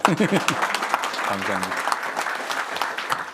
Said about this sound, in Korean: 잘했다고 박수 쳐주신 거죠?